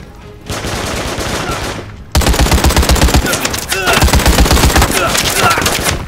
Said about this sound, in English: that's my gun going off